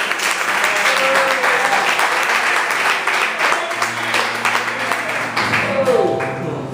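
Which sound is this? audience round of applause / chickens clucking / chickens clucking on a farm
audience round of applause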